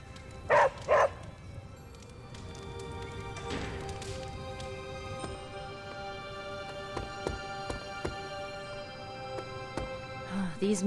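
A puppy barks twice in quick succession near the start in Marvel's Midnight Suns, then a few soft yips sound near the end over steady game ambience and faint clicks, with no talking.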